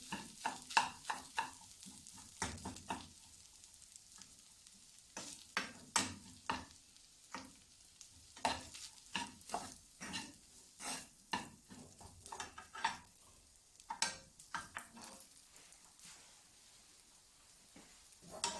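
Singaporean-style egg fried rice is stir-fried in a pan, with repeated scraping and tossing strokes over a soft sizzle, close up and rhythmic with short gaps between strokes.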